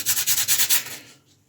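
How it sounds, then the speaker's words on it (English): Sandpaper scuffs the edges of a metal magnet in about seven quick, close rasping strokes, evenly paced, before the rubbing fades to quiet. "I'm going to actually scuff up the edges of this magnet with some sandpaper"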